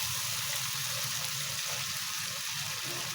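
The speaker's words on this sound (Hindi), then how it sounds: "इसमें मैंने थोड़ा सा पानी डाला ताकि ये बर्तन भी साफ हो जाए" Water is poured steadily into a cooking pot to rinse it, a continuous close gushing splash that holds at an even level for the whole few seconds.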